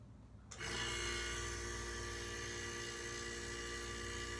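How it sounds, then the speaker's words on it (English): A refrigeration compressor kicks on after temporary wiring to a relay, start capacitor and overload, starting abruptly and then running as a steady, even hum with a high whine, close and alone. "but the compressor is running"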